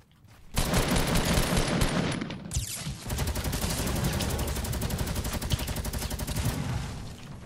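Rapid automatic gunfire from the player's weapon in a shooter video game, loud and close, rattling in a steady sustained burst for several seconds after a short opening volley.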